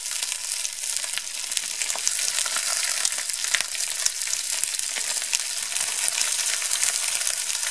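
Cabbage rolls searing in a hot Dutch oven give a steady, close, loud sizzle and crackle with scattered pops, continuing evenly throughout without any talk.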